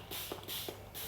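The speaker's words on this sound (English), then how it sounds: "I'm going to spray them with some water so they don't dry" Spray bottle misting water over shaped homemade bread dough, giving a few short soft hissing bursts close by.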